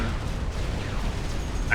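Naval battle in Supreme Commander Forged Alliance between Aeon and Cybran fleets, with dense, rumbling gunfire and booming explosions rolling continuously, loud and unbroken.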